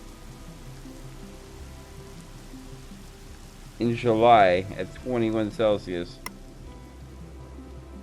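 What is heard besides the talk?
rain falling in the video game Colonize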